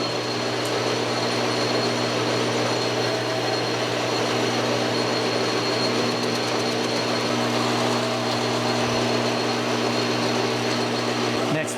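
A lathe facing off a 1.5 inch 1144 steel round bar, a continuous steady machine hum with constant tonal whine running evenly from start to finish, no talk.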